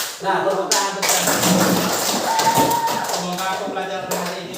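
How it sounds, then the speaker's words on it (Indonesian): A primary school class claps together in a classroom: a dense, sustained burst of many hands clapping at once for several seconds, loud and close, with voices mixed in. "tepuk tangan bersama"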